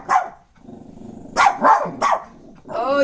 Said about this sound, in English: We have a dog in the yard.